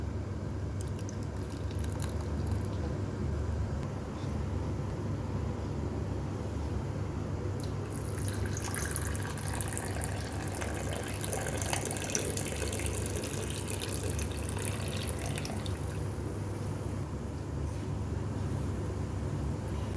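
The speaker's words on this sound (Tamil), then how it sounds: "இப்போ இதை நம்ம ஃபில்டர் பண்ணிக்கலாம்" A hot boiled immunity booster drink is strained through a filter, a soft continuous trickle and pour of liquid that grows fuller for a few seconds in the middle before easing back.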